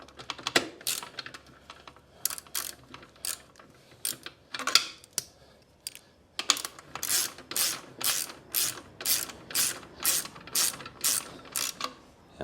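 A ring spanner ratchets steadily on an exhaust bolt of a 1998 Yamaha Majesty scooter, giving close, crisp clicking strokes in a regular rhythm after a few scattered earlier clicks.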